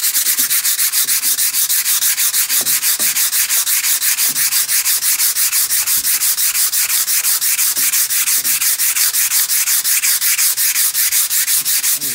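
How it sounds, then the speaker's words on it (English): Sandpaper rubs the finish off a wooden baseball bat in steady, loud back-and-forth strokes that keep a regular rhythm throughout, with no talking. "I'm gonna sand this off so that way I can burn it and then linseed oil it"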